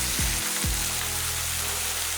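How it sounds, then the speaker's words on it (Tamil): Sesame seed chutney sautés in a pan over a low flame, a dense continuous sizzle like light rain, with two brief low knocks near the start. "துவையல் வந்து நல்லா வதக்கிடலாம்."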